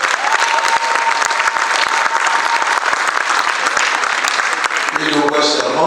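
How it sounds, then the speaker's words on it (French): Wedding guests applaud the king in a congress hall in Brazzaville, a dense, loud, steady wave of clapping from a large crowd that fills the whole stretch, with a voice rising near the end. "Applaudissez le roi."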